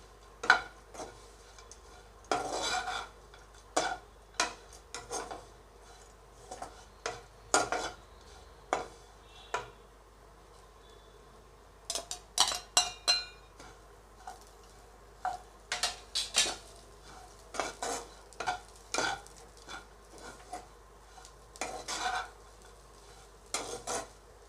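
Onions being stirred in a pan over low heat, with a series of irregular spatula scrapes and clinks above a faint sizzle and quiet background.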